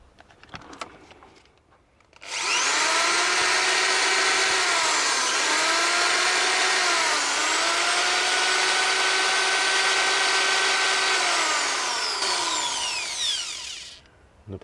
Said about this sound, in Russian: Ну и дрель довольно-таки мощная.